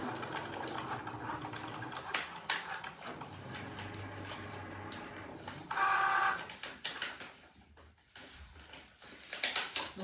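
A Cricut Joy cutting machine cuts heat-transfer vinyl for a Christmas stocking with continuous faint mechanical whirring and motor movement, plus a brief higher whine in the middle.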